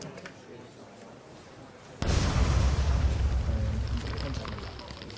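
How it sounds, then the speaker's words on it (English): A homemade bomb goes off in a test blast, a sudden loud boom that cuts through a quiet outdoor background and rolls on into a long, rumbling roar that slowly fades. "There was also this video of him testing one of his early bombs."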